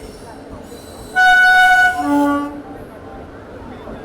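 Train 12903 Frontier Mail arriving at platform 1 of Hazrat Nizamuddin railway station, sounding one loud, sustained two-tone horn blast of about a second and a half that tails off, over steady platform rumble.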